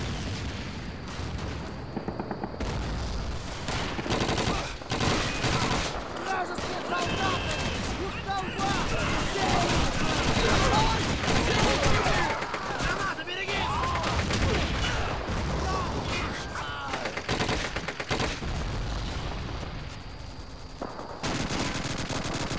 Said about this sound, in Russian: Там, блядь, стреляют нахуй.